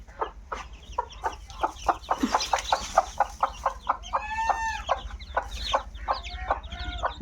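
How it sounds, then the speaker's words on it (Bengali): Chickens and their chicks cluck in a busy, rhythmic run of short calls close by, with higher peeping from the young birds. A rooster-like crow rises in the middle, and there is no talking. "মুরগির বাচ্চা"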